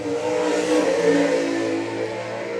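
Sprint car engines roar at full throttle as two cars circle the I-96 Speedway oval together in qualifying, a loud, steady, layered drone with rising and falling pitch and no talk over it.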